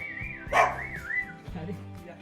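A dog barks once, sharp and close, among whimpering yips, with a faint whistle-like tone running underneath.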